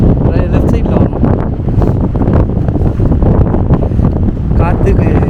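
Strong gusting wind on the Parvathamalai mountain climb buffets the microphone in a loud, continuous roar that rises and falls.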